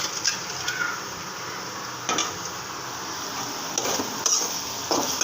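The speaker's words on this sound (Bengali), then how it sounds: "পেঁয়াজের পাতাটা ভালো করে ভাজা ভাজা হয়ে যাচ্ছে" Spring onion leaves fry in a pan with a soft, steady sizzle, broken by a few brief clinks and scrapes of a utensil; no one speaks.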